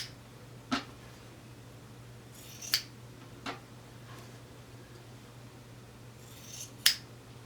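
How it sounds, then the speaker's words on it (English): Scissors trim excess fabric from a quilted hot plate project, with a few separate crisp snips spaced several seconds apart over a faint steady hum. "from here we're going to cut off the excess fabric, cut it down to 1/4 inch seam allowance."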